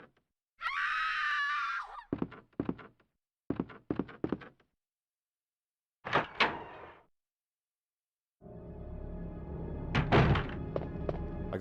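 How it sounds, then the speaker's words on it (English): A girl screams in the survival horror game Resident Evil 2, Claire's campaign; one loud shrill scream is followed by clusters of sharp thuds and knocks, then a sustained noisy stretch with more bangs. "the girl should scream here"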